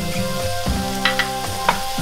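Minced garlic and onions sizzle briskly in a pan with salt, pepper and red pepper flakes, a steady close crackle with a couple of brighter stirring spikes over soft background music.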